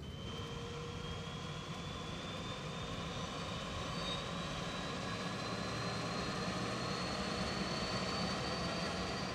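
A specially designed magnetic survey airplane drones steadily in flight, heard from inside the cabin as a continuous engine roar with sustained tonal whines that hold evenly throughout.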